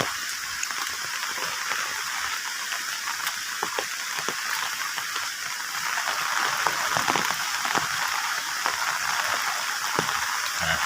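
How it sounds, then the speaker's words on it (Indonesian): Steady rain with gusting wind sweeps across a rural village in Trenggalek, a dense, even hiss of falling water with occasional louder drips and gusts, slightly heavier in the second half, with no voices. "seperti ini hujan angin ya di kampung"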